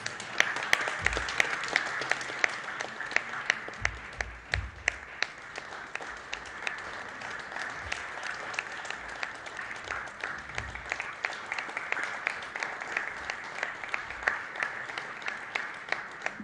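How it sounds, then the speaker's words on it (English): Sustained audience applause at a logo unveiling for the India BFSI Forum launch at T-Hub, dense steady clapping from a crowd continuing for the full stretch at even loudness. "We can continue the claps going"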